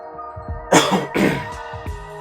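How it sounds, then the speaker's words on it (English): Two quick, rough coughs close to the mic, one after another, over a faint steady hum. "I'm gonna be probably coughing and hacking everywhere"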